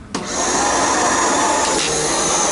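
A Riccar Prima vacuum cleaner, a first production version, switches on and runs steadily with a loud, close motor whine that rises within the first moments and holds without break.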